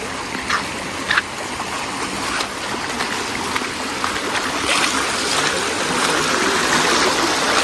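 Stream water flowing steadily at Chinthalthana waterfalls near Sircilla, a continuous broadband rush with brief splashy bursts, fairly close and unbroken throughout, no voices.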